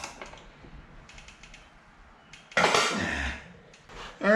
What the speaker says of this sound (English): We're going to hold it here, and we're going to tighten it on the other side.